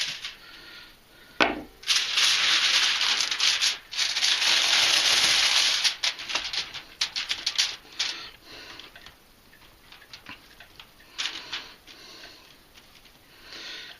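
Food is scraped off a cutting board into foil in quick close bursts of rasping scrapes and taps, some stretches long and steady, others short and broken, with quieter handling between.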